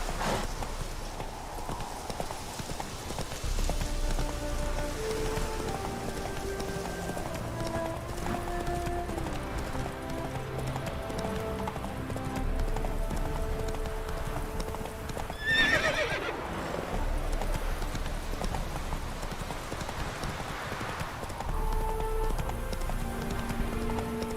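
In The Witcher 3, the horse Roach gallops with steady rhythmic hoofbeats, gives a clear whinny partway through, and runs on under game music and ambience.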